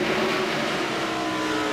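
A stock race car at the 1997 Miller 500 rolls toward the pits with its left rear tire flat, a steady, moderately loud engine drone and road roar carrying on alone without pauses.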